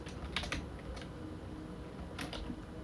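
Fingers tap a computer keyboard while typing code, a few light scattered clicks in small clusters over a quiet room hum.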